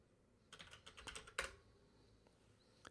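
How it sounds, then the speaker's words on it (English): A quick burst of keystrokes on a computer keyboard enters a fake password, with close, soft clicks over about a second followed by a single late tap. "Type in a fake password."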